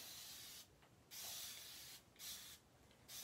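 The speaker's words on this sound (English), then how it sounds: "spray some more" Spray paint hissing onto flannel fabric in three bursts, loud and close, with short pauses between them as the can is pressed and released.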